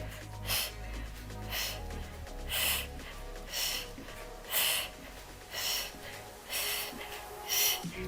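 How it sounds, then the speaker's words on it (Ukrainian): Sharp, forceful exhalations during a home workout, about one breath per second in a steady rhythm, close to the microphone over quiet background music. "Видих, видих."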